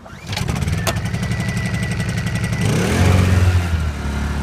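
A small engine on a generator for a tiny house build is started with the choke on, catching after a brief pull and settling into a loud, steady idle with no load, its pitch rising slightly partway through.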